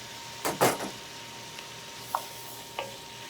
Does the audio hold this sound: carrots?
yes